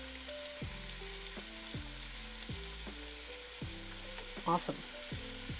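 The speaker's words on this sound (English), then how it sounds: "Onions go on in." Onions dropped into hot, smoking oil in a pot while cooking a kale, chicken and chickpea stew, giving a steady sizzle with stirring and a few louder scrapes and clatters near the end.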